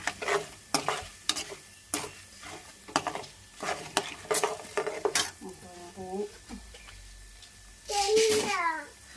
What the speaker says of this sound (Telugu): ఆవాలు, ఇవన్నీ వేసుకొని కొంచెం తిప్పుకోవాలి గరిటెతో.